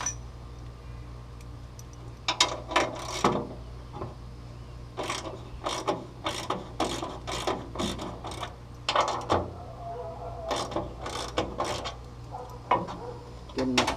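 Bolts on the front fender of a CJ2a Willys Jeep being loosened, heard as short bursts of quick ratcheting clicks separated by pauses, close and fairly loud with a low steady hum underneath.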